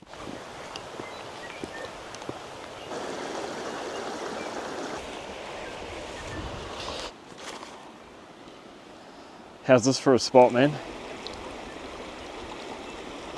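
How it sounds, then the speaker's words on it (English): A flowing stream in a remote river valley, the source of drinking water on a solo wilderness hunting trip, rushing steadily and fairly close, with a few louder splashy bursts near the end and one brief spoken remark. "Cool stream, eh?"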